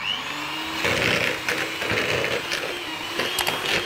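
Electric hand mixer whirring through pineapple upside-down cake batter, a steady close motor drone with rattling, uneven bursts as the beaters knock the bowl, running throughout without talk.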